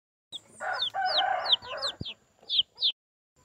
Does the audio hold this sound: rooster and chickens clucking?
yes